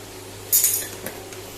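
A spoon clatters and scrapes briefly against a pot while Goan-style aloo masala (potato masala) is stirred, with one loud burst of clinks followed by a few softer knocks, close by with no talking.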